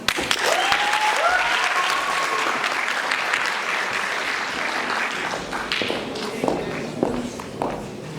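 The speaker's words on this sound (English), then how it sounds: "Big applause, please." Audience applause at a Model UN International Court of Justice committee awards ceremony, a dense, sustained clapping across the whole stretch that tapers slightly toward the end, with a brief whistle-like tone early on.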